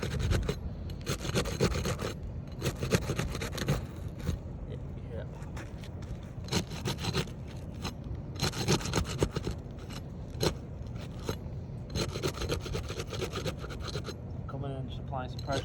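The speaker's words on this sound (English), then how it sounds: "You hear that like stickiness? That's just unbonding. You can hear that. Sounds like popping a little bit." A blade cuts away adhesive during a repair, giving repeated close rasping scrapes with small sticky pops as the bond comes apart, under steady talking.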